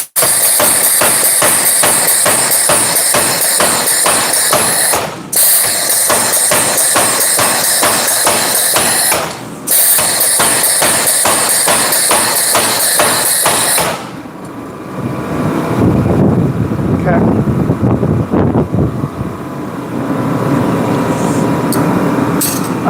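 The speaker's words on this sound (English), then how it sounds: "Give it a little power hammer kiss." A power hammer pounds rapidly and loudly on a hot forged blade at the handle transition, a dense mechanical rhythm that stops briefly twice before cutting out, leaving a lower rumbling workshop noise.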